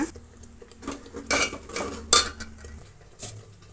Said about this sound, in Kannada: ಜಾರು ನೀಟಾಗಿ ತೊಳೆಯೋಣ